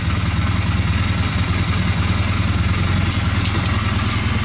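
A Honda CB250 motorcycle engine idles steadily and close by, its low, even rumble running throughout without a break after service work on the bike.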